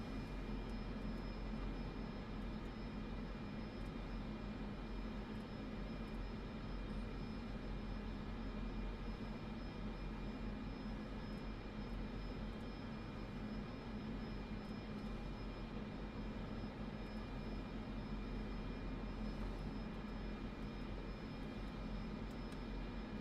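An airplane taxis in a flight simulator game, with a steady, even engine drone that stays constant throughout and has no other sounds over it.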